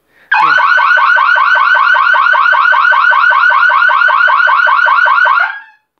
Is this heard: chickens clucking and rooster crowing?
no